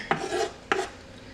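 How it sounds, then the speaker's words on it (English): Boiled eggs being chopped for macaroni salad, two distinct knife strikes about half a second apart, each with a short scraping rasp, close and moderately loud without speech. "I'm chopping up these eggs to go in the macaroni salad."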